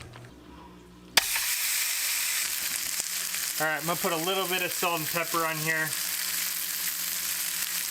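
Bacon-wrapped fish frying in a pan sizzles loudly and steadily after a sudden start, with someone talking over the crackling hiss.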